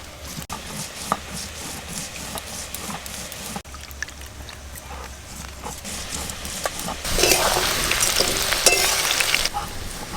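Potatoes fry in hot oil in a pan, a steady crackling hiss that swells louder near the end, with occasional knocks and scrapes.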